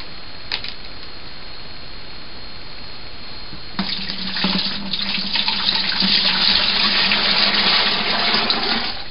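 Liquid pours into a cooler for banana brandy moonshine, a steady splashing gush starting partway through and continuing loud and close after a quiet start.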